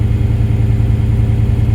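A 1997 Mustang Cobra idles on a rich cold start through BBK long tube headers, an off-road X-pipe and an SLP LM1 catback, giving a close, steady, deep rumbling drone with no talk.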